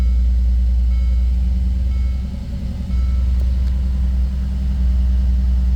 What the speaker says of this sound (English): All right, we're gonna do a cold start here.